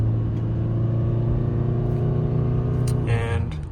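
A 2022 Toyota Sienna XLE AWD climbs a hill at three-quarter throttle in normal mode, its engine holding a steady droning hum from inside the cabin, with a brief higher tone near the end as it eases off.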